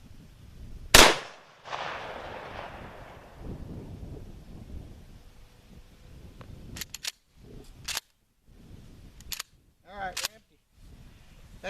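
A home defense shotgun fires 3-inch loads, one sharp loud blast near the start that trails off into a rumbling decay, followed by quieter handling clicks and a short spoken remark.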